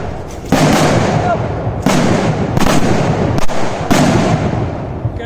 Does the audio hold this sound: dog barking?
no